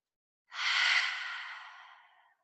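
A single long breath out during a yoga sun salutation, soft and airy, close and clear, swelling quickly then fading gradually over about two seconds in otherwise silent surroundings.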